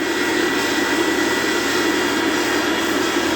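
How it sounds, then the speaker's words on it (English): A valve grinder refaces an engine valve from a 1949 Ferguson TE20 tractor, making a loud, steady, unbroken whirring hiss close by with no talk. "Now we're going to put the valve in the valve grinder and just slowly"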